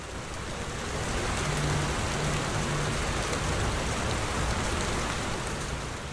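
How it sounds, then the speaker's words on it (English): Steady, peaceful evening rain falling on surfaces, a dense even hiss of drops throughout with a faint low rumble beneath, no voices. "you can hear a recording of the rain as I recorded it the other evening"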